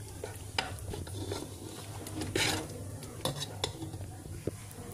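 Steady scraping and clinking of a spoon stirring masala with ginger in a pressure cooker pot, with occasional sharper taps against metal over a soft background hum.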